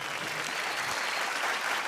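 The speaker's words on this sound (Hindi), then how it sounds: "एक बार मुन्नी के लिए जोरदार तालियां।" Audience applause at a comedy and awards show, a dense steady burst of clapping from a large crowd, loud and continuous throughout with no voices over it.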